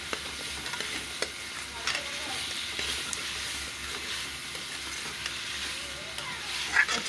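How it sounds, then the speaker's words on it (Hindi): Half a kilo of washed, cut potatoes frying in spiced masala in a pan while being stirred, with a steady close sizzle and occasional scraping knocks throughout. "अच्छी तरह बुनाई करूँगी आलू की"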